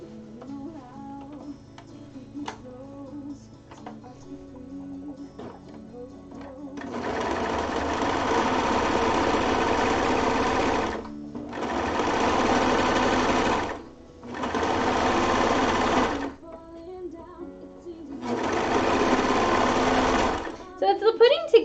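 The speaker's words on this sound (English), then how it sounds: "I'm just going to overlock it because I can." An overlocker sewing machine hums loudly in four runs of a few seconds each as it stitches fabric edges, with brief pauses between runs and quieter handling sounds before it starts.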